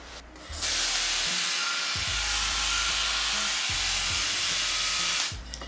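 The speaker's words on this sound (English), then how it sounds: "I'm spraying the roots a little bit so that the myco can adhere to it a little better." A spray bottle mists plant roots with mycorrhizal inoculant during a repotting job. It gives one long steady hiss lasting about five seconds, loud and close, with a few soft handling knocks underneath.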